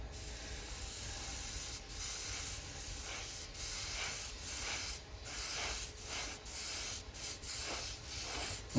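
An airbrush sprays Kaleido acrylic paint with the compressor set at 20 psi, a close, steady hiss broken into short bursts with brief pauses between passes.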